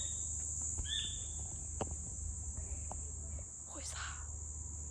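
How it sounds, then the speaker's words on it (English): Crickets in the Daintree Rainforest at night, a steady high continuous chirring drone with occasional insect and bird calls, a faint voice and rustling nearby. "You can really hear the bugs all in waves going like that. That is especially the crickets"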